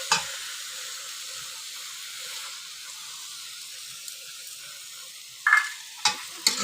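Cashew, melon seed and poppy seed paste sautéing in oil-released masala for prawn malai curry: a quiet, steady sizzle throughout, followed near the end by a few sharp scraping stirs of a spoon in the pan.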